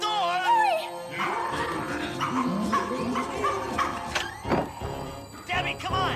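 Balloon dogs from the 1988 film Killer Klowns from Outer Space yip, bark and whimper in a chase scene, the sharp calls repeating over movie score and effects, with a voice talking briefly underneath.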